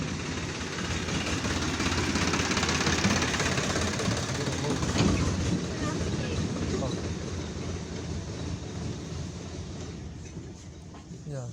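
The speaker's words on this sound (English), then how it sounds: "Here comes the tractor." A tractor engine rumbles steadily at close to moderate range, its broad low drone holding loud through most of the stretch before easing slightly toward the end, with no talk over it.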